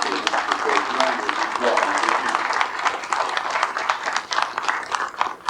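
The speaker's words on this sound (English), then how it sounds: "I think everyone here would give these gentlemen an applause" Audience applause for guest speakers at a talk on 392nd Bomb Group missions with the 8th Air Force, crisp claps at moderate loudness, continuing for several seconds and trailing off unevenly.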